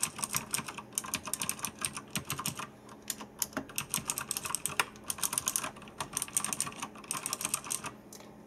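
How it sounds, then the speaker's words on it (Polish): Rapid clicky keystrokes on a Razer BlackWidow Ultimate Chroma mechanical keyboard with Razer Green switches, sharp bright clacks in quick irregular bursts with short pauses, close and crisp, no talking. "Przełączniki Green charakteryzują się tym, że mają specyficzny klik."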